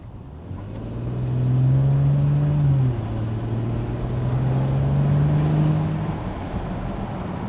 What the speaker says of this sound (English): So you hear that turbo noise?